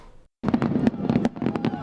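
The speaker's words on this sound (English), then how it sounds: "Fireworks are the sound of celebration you recognize every 4th of July and even days before." Rapid crackling Fourth of July fireworks popping and banging in a dense burst after a short pause, fairly close, with faint background voices.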